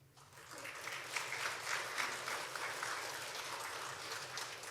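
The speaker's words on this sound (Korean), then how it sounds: "우리 박수로 환영해 주시면" Steady applause from a church congregation welcoming the pastor to the pulpit, a dense wash of many hands clapping at moderate distance, sustained throughout with no talking.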